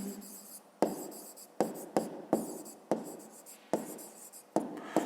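Pen writing numbers on paper, a close series of scratchy strokes with about seven distinct tapping starts, each followed by a short fading scrawl.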